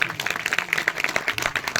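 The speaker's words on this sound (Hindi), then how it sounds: "सभी लोग जोरदार तालियां बजाएंगे इस पुस्तक के विमोचन के लिए" Audience applause for a book release at a religious gathering, a dense wash of many hands clapping steadily and fairly loud for about two seconds with no voices over it.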